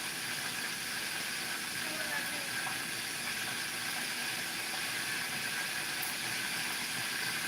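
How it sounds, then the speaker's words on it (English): A steady, dense sizzling hiss of chicken frying in hot oil, continuous and even throughout. "We're almost done frying the chicken."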